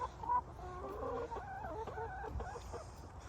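A backyard hen kept at home for eggs clucks in a short run of soft, throaty calls, fairly close and fairly quiet, with no speech over it.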